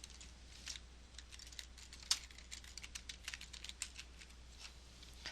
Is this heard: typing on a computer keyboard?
yes